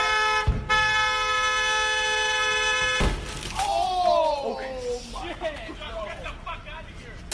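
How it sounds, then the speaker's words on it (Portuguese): Car horns honk in a busy street as football fans celebrate a big match, one long sustained blast up front followed by several shorter overlapping toots amid crowd babble and traffic. "Jogo que torcedor sai na rua pra buzinar no carro."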